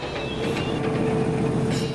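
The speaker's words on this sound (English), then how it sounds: "a single engine will have to pull the train on the rest of the route" Loud, steady rumble of a train pulled by a single locomotive rolling along the rails, with a sustained mechanical drone and faint metallic squeals, close by.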